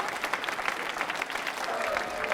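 An audience claps at a quiz show, a short burst of dense, moderately loud applause that holds steady throughout.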